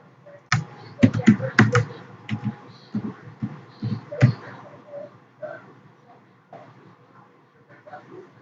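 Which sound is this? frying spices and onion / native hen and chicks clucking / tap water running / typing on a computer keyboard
typing on a computer keyboard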